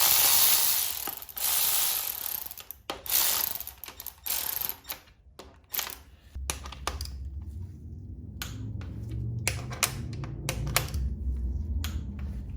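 A ratchet torques Camaro engine bolts with a torque angle gauge, making rapid close clicking bursts in uneven runs, first dense and loud, then sparser against a low hum.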